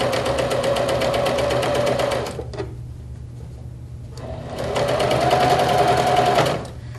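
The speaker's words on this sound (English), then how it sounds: "So we're going to sew down each of the sides to kind of make a finished edge." A sewing machine stitches along the sides of a fabric tool case, running in a loud, fast steady whir for about two seconds, pausing, then running again before stopping.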